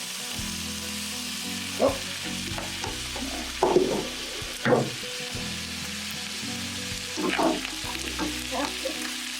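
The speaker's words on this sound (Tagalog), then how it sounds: "Ipiprito natin siya hanggang sa maging golden brown siya" Canned tuna sisig frying in oil in a pan until golden brown, a steady low sizzle with a few louder crackling bursts as it is stirred, close by.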